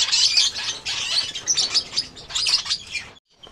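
Lovebirds chirp continuously, with bright, rapid high-pitched twittering that fills the clip at close range until it stops abruptly near the end.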